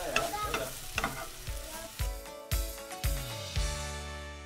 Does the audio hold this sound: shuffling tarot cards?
no